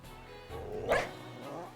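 A dog Pokémon in the video game Pokémon Violet gives a single short bark over a low electronic game backdrop.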